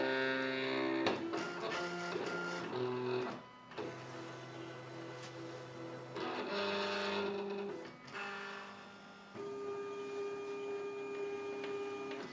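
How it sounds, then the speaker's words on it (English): A Silhouette Cameo 3 cutter calibrates and moves its blade, producing quiet motorized whirs and buzzing tones in short stop-start bursts with brief pauses in between, like a small printer carriage shuttling back and forth. "Now it's looking for the registration marks, locating where it is, calibrating the whole bit before it starts to cut."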